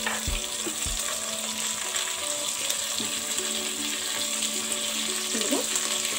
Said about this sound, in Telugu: ఇవి వేగిన తర్వాత ఇందులో కొన్ని చికెన్ ముక్కలు, అల్లం వెల్లుల్లి పేస్ట్, కొంచెం పసుపు